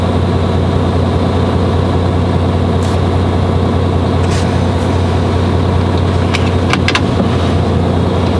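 Steady, loud engine and road drone from inside a moving car on the road, constant throughout with a few faint clicks and rattles and no talking.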